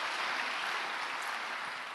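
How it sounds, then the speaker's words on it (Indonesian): Church congregation clapping during an Indonesian sermon, a brief, even burst of many hands at moderate loudness, with no voices over it. "Tepuk tangan bagi Allah kita."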